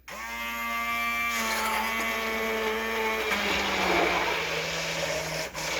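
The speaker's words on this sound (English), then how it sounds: "I'm not going to get it too pureed, just to get it mixed up a bit." A kitchen blender briefly mixes tomato paste into a meat sauce for low-carb zoodles, its motor whirring steadily and fairly close for several seconds with a rising, slightly straining whine. No voices are heard.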